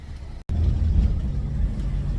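Lifted 4x4 Astro Van driving on the road, a loud steady low road and engine rumble after a brief dropout, no talk.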